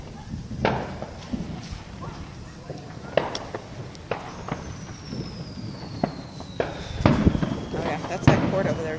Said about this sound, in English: They like fill up the whole center of the court with fireworks.